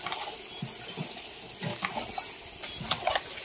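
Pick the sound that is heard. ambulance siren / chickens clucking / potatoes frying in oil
potatoes frying in oil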